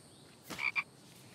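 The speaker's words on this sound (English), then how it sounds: "Well, there's a frog." Single frog croaking in the video game The Infected, a short pair of sharp, rasping croaks in quick succession, close and clear against a quiet background.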